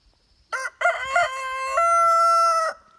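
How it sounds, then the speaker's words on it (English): A rooster crows nearby, loud and clear: a short sharp opening note, then a long drawn-out call that ends abruptly. "He'll start puffing it up, and then he'll crow."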